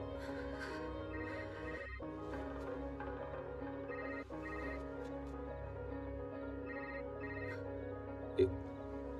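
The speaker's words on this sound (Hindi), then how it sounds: "कौन इतनी रात को फोन कर रहा है तुम्हें?" A telephone rings late at night, its bell steady and fairly faint under background music in a dramatic film scene, with a brief sharp sound near the end.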